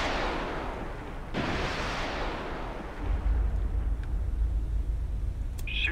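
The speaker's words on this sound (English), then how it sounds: "Con, torpedo room, tube 3 ready. Shoot tube 2." A submarine's torpedo tube fires in the naval combat game Cold Waters, a deep muffled launch rumble followed by a sustained low whoosh and churning underwater roar, with faint voices in the background.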